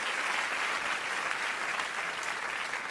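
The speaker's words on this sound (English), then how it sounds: "Wait, why is everybody clapping?" Audience applause during a Swan Lake ballet performance: steady, dense clapping from a large crowd, even and sustained, heard moderately softly.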